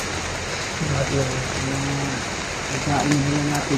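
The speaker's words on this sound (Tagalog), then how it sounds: "sobrang lakas ng ulan pa rin mga tol." Heavy rain pours in a dense, steady hiss throughout, loud and close, while someone speaks over it.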